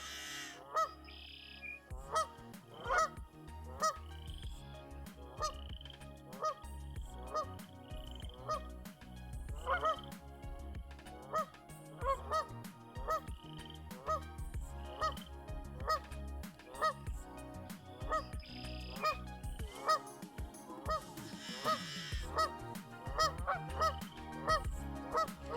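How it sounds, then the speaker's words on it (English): Geese honking outdoors at a pond where ducks gather, a steady stream of repeated nasal honks from several birds, moderately close and continuing throughout with some overlapping calls. "Some geese giving me a hard time."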